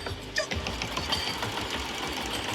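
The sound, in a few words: embroidery machine stitching a test design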